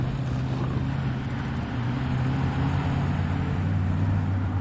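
Military vehicles roll out in the video game Squad, a steady low engine drone with sustained humming tones throughout, no speech over it.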